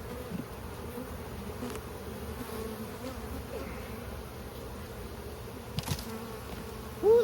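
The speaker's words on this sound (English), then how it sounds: "There's a lot of bees on this thing, and we've been bumping them around pretty good." Honey bees from a busy, heavily populated hive, opened and disturbed during an inspection, hum in a steady, dense buzz throughout, with faint handling knocks and a brief louder swell near the end.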